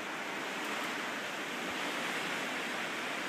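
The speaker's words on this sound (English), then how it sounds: "Comes another big wind gust." A strong wind gust roars through a blizzard in Anchorage, Alaska, a loud, steady broadband rush with no gaps, close and enveloping, no voices over it.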